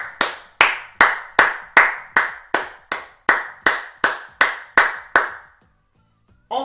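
A single person claps hands about fifteen times in a steady, even rhythm, close and fairly loud, then stops, leaving near silence.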